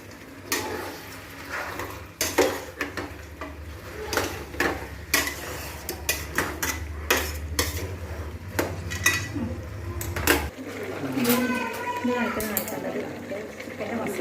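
Chicken stirred into a Kerala-style masala gravy in a pan, a spoon scraping and knocking against metal in irregular taps over a low steady hum, with a voice speaking between strokes.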